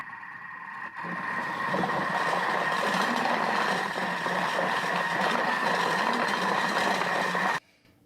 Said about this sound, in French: vous n'avez qu'à ajouter ces ingrédients, les laisser quelques minutes et passer ça au blender